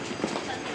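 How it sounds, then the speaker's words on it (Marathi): A Mumbai local train rumbles into a station, a brief, continuous clatter of wheels and carriages, close and moderately loud. "इधर सामने आ चुकी लोकल"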